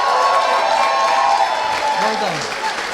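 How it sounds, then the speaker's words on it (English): An audience at a sales prospecting talk gives a round of applause for the first speaker, a dense wash of clapping that stays steady and then eases slightly, with a voice speaking over it near the end. "So can you please be encouraging for our first speaker, Vitalie? You're up. Round of applause."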